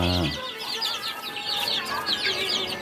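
Young chicks of an unusual, sparsely feathered kind, near a Black Astro flock, chirp and cluck busily in a continuous chorus of high peeps, with adult hen clucking mixed in, loud and close without pause.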